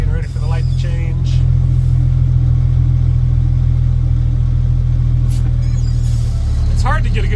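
A gravel truck's diesel engine rumbles loud and steady in the cab, its pitch dipping and climbing as it shifts through the gears, with brief clunks near the start and end.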